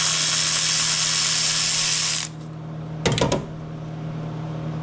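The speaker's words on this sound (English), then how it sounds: "And then we got our ratchet wrench, which you could use whatever, but it just works out good for us." A ratchet wrench works the valve cover bolts on an Ecotec engine from a 2005 to 2010 Chevy Cobalt, a brief burst of rapid clicking heard close after a loud steady hum cuts off.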